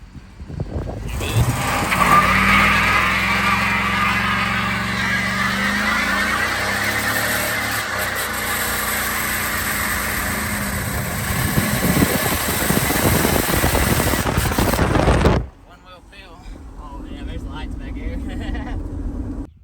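A pickup truck bought as a burnout vehicle revs hard and drives off, a loud sustained engine roar for about fifteen seconds that cuts to a much quieter background as it leaves.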